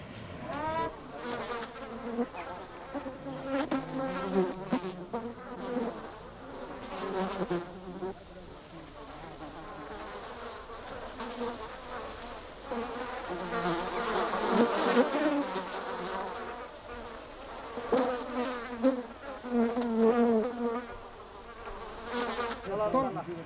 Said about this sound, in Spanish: ahuyente los enjambres de miles de abejas